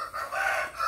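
A rooster crows once, a single short call that is fairly loud and near, with no talk over it.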